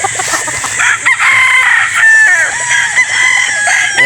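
A trio of Escolin White chickens at a Batangas game farm, a rooster crowing loudly and close in long drawn-out calls over steady background clucking and farm noise.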